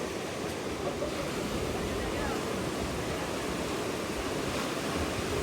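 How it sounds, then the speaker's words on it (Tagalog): Ocean waves at sea around a small fishing boat putting out, a loud steady rush of surf and water noise that fills the whole stretch without a break. "Ayun na, may mga alon na."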